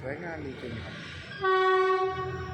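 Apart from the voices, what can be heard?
train horn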